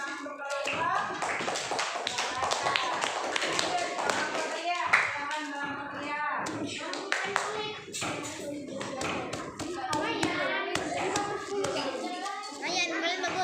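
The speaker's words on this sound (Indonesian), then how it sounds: "Ya, silakan duduk kembali dan beri tepuk tangan untuk kelompok." A classroom of students claps for a student group, with rapid, overlapping hand claps sounding close and steady throughout. Children's voices chatter and call out over the applause.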